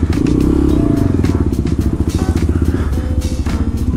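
A small motorcycle fitted with a new exhaust, new bars, pegs and a sprocket kit rides close by, its engine droning loud and steady with a rapid pulsing beat and a brief rise in pitch, no talk over it.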